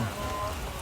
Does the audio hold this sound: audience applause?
no